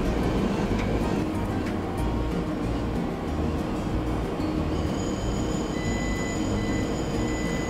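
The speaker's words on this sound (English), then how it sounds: "this is a big commercial dryer and it moves a whole lot of air to dry your clothes" A loud, steady rumble of rushing air from a large commercial laundromat clothes dryer fills the whole stretch, with a faint high whine joining later.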